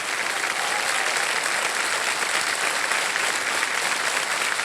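Studio audience of a TV quiz show bursts into dense, loud, sustained applause, an unbroken wash of clapping from start to finish.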